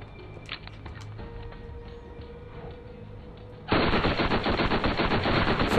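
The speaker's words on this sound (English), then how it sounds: "So just any fully automatic weapon should work against Moe." A fully automatic weapon rattles in rapid, loud continuous bursts in the Borderlands video game, kicking in suddenly after a stretch of quieter ambient game sound with scattered clicks.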